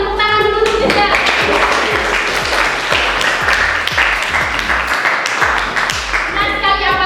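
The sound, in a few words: classroom applause for a student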